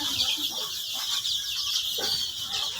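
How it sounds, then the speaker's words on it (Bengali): Desi chickens and chicks on a small farm give soft clucks and peeps against a steady hiss of background noise, close by and continuous. "তো দেখেন, আমার এই মুরগির বাচ্চাগুলো কত সুন্দর খেলছে"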